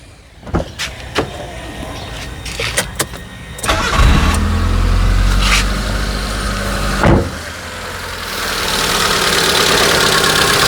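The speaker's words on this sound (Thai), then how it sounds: "สตาร์ทเสียงเครื่องให้ฟังกันเลยนะครับ" A few clicks and mechanical clunks, then a Mitsubishi Lancer engine with a newly replaced timing belt cranks and catches, settling into a steady, moderately loud idle.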